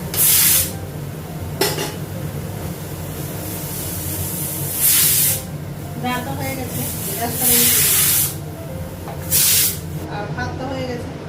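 A pot of rice boiling over on the stove gives off repeated bursts of hissing spray, four or five loud surges over a steady low rumble, while a person talks throughout.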